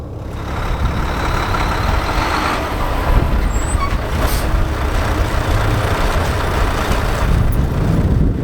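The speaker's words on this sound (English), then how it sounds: "I'm then going to pull forward at 5 miles per hour and apply my service brake to ensure the vehicle stops without pulling to either side." A truck's engine rumbles loud and close as it rolls forward slowly and stops, a brief hiss of air from the service brake rising over the steady low drone midway through.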